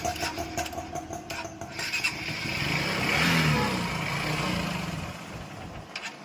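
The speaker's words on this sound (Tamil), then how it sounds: "வண்டி நிற்கிறப்ப வண்டி ஸ்டார்ட் பண்ணியாச்சு." A Honda Shine 125 motorcycle idles steadily close by after a carburettor repair, a continuous low engine hum that swells slightly mid-clip and then settles back.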